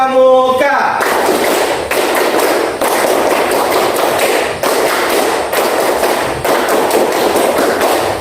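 A class of students does the Indonesian scout clap (tepuk pramuka), a fast run of loud, rhythmic group hand claps in repeated bursts after a short spoken call.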